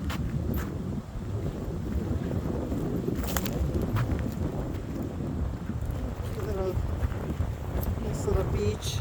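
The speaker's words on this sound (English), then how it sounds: "Very windy today." Strong wind buffeting the microphone in a forest area of a wildlife management area near a beach, a steady loud rumbling roar with occasional gusts and a voice speaking over it.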